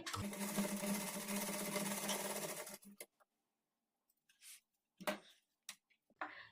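A sewing machine stitching fabric for blouse latkan tassels, running in a loud continuous whir for under three seconds, then giving way to quiet handling clicks and rustles.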